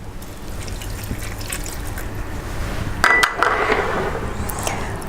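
Half a cup of beef broth poured into a pot of chili, a short soft trickle and splash heard over a quiet background hum.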